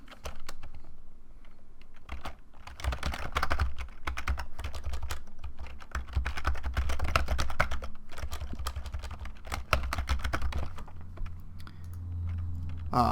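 Steady, rapid typing on a computer keyboard while entering task details into an online form, a continuous close clatter of keystrokes lasting throughout with brief pauses.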